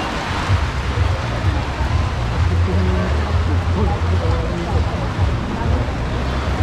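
Rain pours down at an outdoor food event in Manila, a dense steady hiss of drops beneath a low rumble and crowd babble, with people talking throughout.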